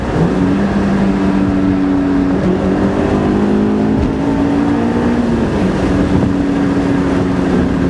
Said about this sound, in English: Listen to blip throttle downshift here.